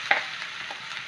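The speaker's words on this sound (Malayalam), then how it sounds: "ഇതൊന്ന് എണ്ണയിൽ കടന്നൊന്ന് മൊരിയട്ടെ." Crushed coconut, green chillies, shallots and curry leaves sizzle in hot oil with popped mustard seeds, a steady close frying hiss with a few brief louder crackles.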